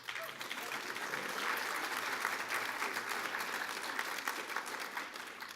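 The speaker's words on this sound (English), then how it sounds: "Now we have to work out who won this extraordinary interpretation of a debate. Was it, by round of applause" An audience votes for a debate team by round of applause at a 50th anniversary debate, producing a sustained, loud wash of clapping with some cheering that holds steady throughout.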